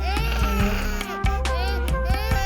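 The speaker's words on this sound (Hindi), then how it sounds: "तभी रोने की आवाज सुनकर एक गोपी भीतर आई" An infant cries over a dramatic music score, with a steady wailing tone and a brief break near the middle.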